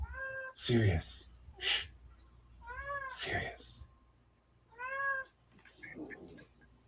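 A house cat meows three times at close range, each call rising and falling, with rustling, thumps and low human talk in between.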